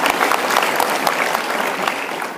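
Applause at a high school wrestling banquet, a loud, dense burst of many people clapping close by, holding steady throughout and tapering slightly at the end.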